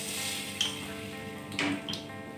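Spices and salt sizzle in hot oil during tempering, a steady faint crackling hiss broken by a few soft stirring clicks.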